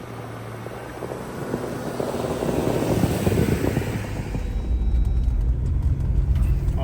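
A 4-wheel-drive vehicle in low range climbing an icy, snowy hill, its engine note swelling steadily louder and rougher over several seconds, with rumbling, crunching noise beneath.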